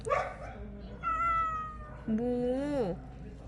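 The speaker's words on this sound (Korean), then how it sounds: "사료 창고로 쓰이는 컨테이너 아래서 노란 고양이 한 마리를 만났습니다." A yellow cat meows under a shipping container used as a feed store, giving several close, clear, drawn-out calls with rising and falling pitch, the last one longest.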